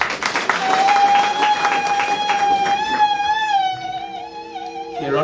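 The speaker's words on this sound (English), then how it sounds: "A round of applause for her." An audience at a village health expo in Taung applauds a speaker while a sustained whistle or tone rises over the clapping, the applause fading toward the end.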